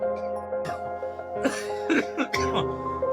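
A person coughs and clears their throat at close range: several rough, harsh bursts with short voiced sounds between them.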